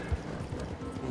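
Soft, steady clip-clop of horse hooves from a horse being ridden in a video game, a quiet rhythmic trot heard at a distance over a faint ambient bed.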